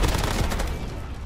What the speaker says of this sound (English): Get some ridiculous bursts with this gun